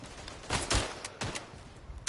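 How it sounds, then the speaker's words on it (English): Rifle fire in the World War I trench shooter game Verdun cracks out as several sharp, distant-sounding shots over about two seconds, fairly faint against a background of game noise. "Oops, I shot my own person in the head there."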